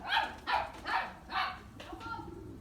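A young dog gives a few high, yelping barks in quick succession, fairly close, then quieter whimpering noises trail off.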